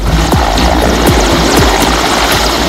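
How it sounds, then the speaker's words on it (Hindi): A firefighting helicopter flies over a forest fire, its loud, close rotor chopping in a steady rhythmic beat over a constant engine roar. "कुमाऊं क्षेत्र रो निया लिभा काम रे मुतयन हेलिकॉप्टर भीमताल रो पानी आनी थांता"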